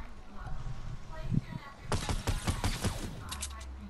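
Gunfire in Fortnite season 7 battle royale as an enemy is shot, a burst of rapid shots in the middle of the clip, with voices talking before and after.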